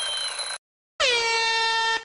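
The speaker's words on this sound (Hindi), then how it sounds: "मेरे ख्याल से एयर हॉर्न ठीक है" An air horn used as a prank lets out two loud blasts close by: a short first one, a brief silence, then a longer second blast that trails off at the end.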